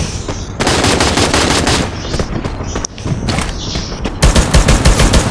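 MP5 gunfire in a battle royale video game: loud, near bursts of rapid automatic shots, with short breaks between the strings of fire.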